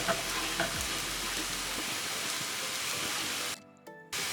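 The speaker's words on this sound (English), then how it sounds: "My bitter melon is turning brown now." Bitter melon frying in a pan in a Sri Lankan home kitchen, a steady, close broadband sizzle with a few soft stirring scrapes, then a sudden drop to near silence before the sizzle resumes.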